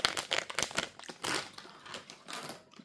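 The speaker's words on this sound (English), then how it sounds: "Some crinkles." Close, crisp crinkling of material handled for ASMR, coming in quick bursts of rustles and crackles with short pauses between them and no talking.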